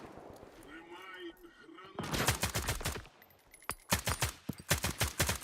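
Gunfire in the shooter video game S.T.A.L.K.E.R. 2: rapid bursts of automatic shots crackling in quick rhythmic strings, loud and close, following a voice talking over quieter background sounds.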